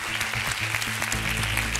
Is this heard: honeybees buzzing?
no